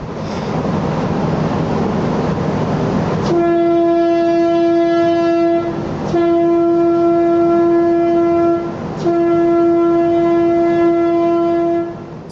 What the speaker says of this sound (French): Ce dernier coup de corne d'adieu a été sonné soit pour l'équipage sauvé, soit pour la mer impitoyable qui allait bientôt engloutir le navire à jamais.